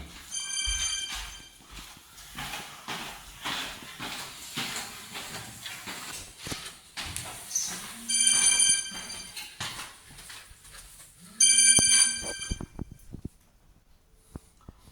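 A telephone rings out in a forest setting in two short, bright bursts over a hissy, rustling background, with no speech.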